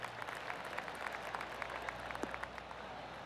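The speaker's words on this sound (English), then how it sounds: "Oh, I can hear the golf claps around the course." Scattered golf-style clapping from a distant crowd in the video game PGA Tour 2K25, light and sparse, over a steady ambient background hum.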